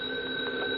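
A telephone ringing in an old radio drama, a short steady electronic tone heard alone and fairly faint for under a second.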